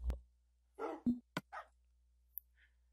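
Dogs in a video game give a few sharp, separate barks and yips over a few seconds against a quiet background, with a faint high tone near the end.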